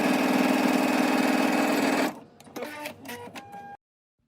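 A sewing machine stitches a seam in one loud, steady, buzzing run lasting about two seconds, then slows into a few uneven mechanical clicks and whirs before stopping abruptly.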